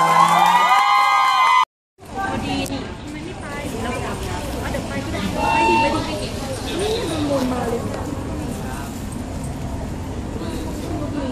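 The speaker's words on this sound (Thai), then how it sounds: "ขอเสียงปรบมือให้กับทุกคนและก็ศิลปินของเราด้วย" A lively crowd at a meet-and-greet event in a vegetable garden in Chiang Mai claps and cheers after a brief melodic snippet and a moment of silence, the noise swelling and staying dense to the end.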